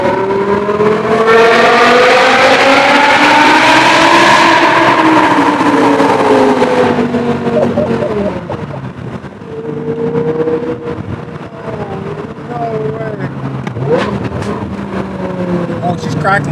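BMW M5 E60 with a manual V10 and straight-through F1 exhaust, valves open, cruising on the road: a loud, steady multi-harmonic engine drone that rises and eases with throttle, with someone talking over it.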